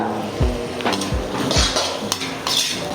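Metal spatula clanks against a pan as pork chilli with chili powder is stirred, several sharp scraping knocks in an irregular rhythm, close and fairly loud, no talk.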